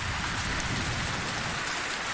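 Steady heavy rain hissing during a thunderstorm in the survival game Survisland, a dense even wash of sound with faint low rumbling underneath.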